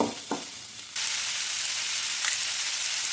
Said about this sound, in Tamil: பொடியாக கட் பண்ணி ஒரு தக்காளி போட்டு இது நல்லா வதக்கலாங்க.